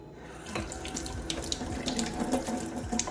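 Tap water runs steadily into a makeup brush held under the stream, a continuous close splashing gurgle with small shifts as the bristles fill, no voice over it.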